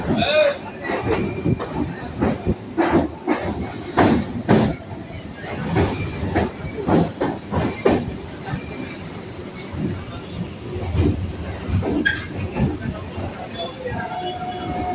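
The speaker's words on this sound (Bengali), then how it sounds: "ট্রেন এখন কলকাতা স্টেশন ছেড়ে বেরিয়ে যাচ্ছে" A local train pulls out of Kolkata station on the Barrackpore to BBD Bagh line, with loud rhythmic wheel clatter, rumbling and brief squeals close by, and faint voices mixed in.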